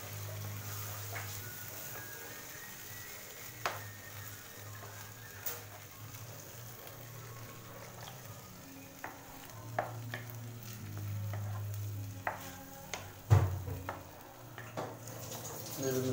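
Masala paste ground in a mixer and thinned with water sizzles in a frying pan for chenna masala with baby corn, a steady low bubbling hiss broken by intermittent scraping stirs and clicks of the spoon.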